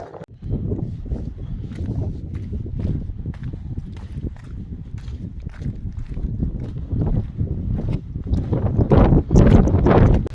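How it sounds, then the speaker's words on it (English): Strong gusts buffet the microphone on the Hadrian's Wall trail near Crag Lough in winter, a steady low roar that swells louder toward the end, with what may be footsteps crunching beneath it and no talking. "The wind's wild."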